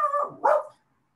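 A pet dog lets out one short bark that trails into a soft whimper, close and fairly loud, then silence.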